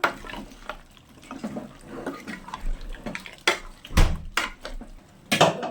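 Water splashes and pours into a metal pot for egg chicken curry amid clanks of cookware, with a louder gush and clatter near the end; no talking.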